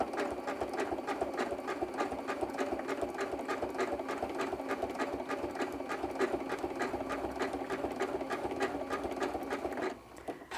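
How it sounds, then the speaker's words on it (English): Sewing machine stitching a zigzag on a pumpkin wall hanging, a steady rapid mechanical patter running evenly throughout and stopping briefly near the end, close and without speech. "we're going to start with this zigzag stitch"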